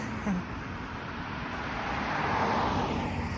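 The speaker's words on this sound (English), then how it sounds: "these cars are just rolling by too loud" Car traffic rolls past steadily along Victoria Park Avenue in Toronto, a continuous roadside drone of tires and engines that swells slightly toward the end.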